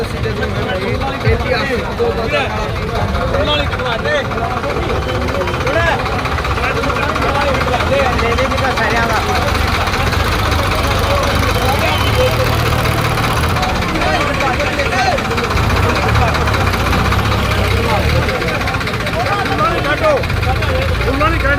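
Several motorcycles idle together in a village gathering, making a continuous low rumble of engines. The rumble runs throughout under a busy crowd murmur.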